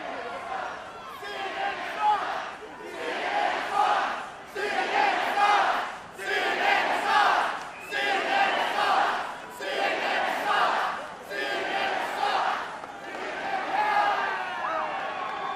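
A massive political rally crowd in Albuquerque, New Mexico roars and chants in repeated loud waves, swelling and dipping in a steady rhythm.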